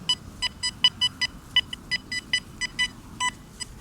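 A metal detector sweeping over a Revolutionary War-era pewter button gives a rapid series of about fifteen short, clipped electronic beeps, steady and close, with no talking.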